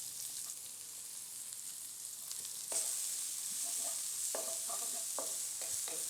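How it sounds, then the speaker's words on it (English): Garlic, ginger, red onion and the white part of spring onion sizzle in a pan as they are stir-fried, a soft steady hiss with a few light scraping taps from stirring, fairly quiet and without voices. "So I'm just stir frying,"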